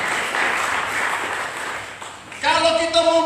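A church congregation breaks into applause, a dense wash of clapping that swells and holds for a few seconds before a voice cuts in over the tail.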